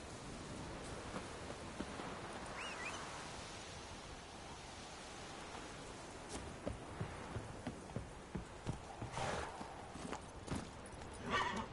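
Horse hooves trotting in The Witcher 3, heading out from the keep at Kaer Morhen, with a run of clopping steps that grows sharper and more regular toward the end over a steady windy, rain-like ambient wash.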